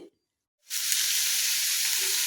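Sliced onions hit hot oil in a pan and break into a loud, steady sizzle that holds continuously after a brief silence, close up and without voices.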